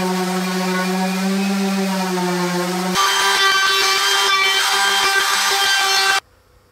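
A router cutting a 1/8 inch round-over along the edges of a cherry wood frame. It makes a loud, steady whine that shifts pitch as the bit bites into the wood, then cuts off abruptly at the end.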